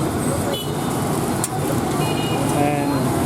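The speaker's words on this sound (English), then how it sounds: "You get used to the noise, the traffic" Busy Hanoi street traffic rumbles steadily below, a dense wash of engines and road noise with faint horn-like tones and beeps, heard from an overlooking vantage point, constant and moderately loud throughout.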